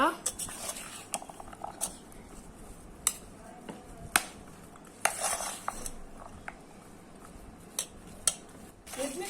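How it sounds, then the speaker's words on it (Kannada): A spoon stirs and clinks in a bowl while pani puri filling is mixed with pani puri masala, giving sharp scattered taps and scrapes over quiet background. "ಆಮೇಲೆ ಪಾನಿಪುರಿ ಮಸಾಲ, ಇವಾಗ ಇದನ್ನೆಲ್ಲದನ್ನು ನೀಟಾಗಿ ಮಿಕ್ಸ್ ಮಾಡ್ಕೊಳ್ಳೋಣ."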